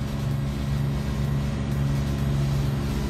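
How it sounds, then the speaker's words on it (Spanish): Steady mechanical blowers hum continuously in the background at a Buenos Aires race track during Súper TC2000 qualifying, a constant low drone with tonal bands and no talk over it. "el sonido que se escuchamos de fondo es de las sopladoras"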